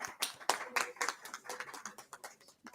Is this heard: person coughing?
no